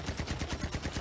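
A big gun in the Crossfire X video game fires a rapid automatic burst of about nine evenly spaced shots, loud and close, with no talk over it.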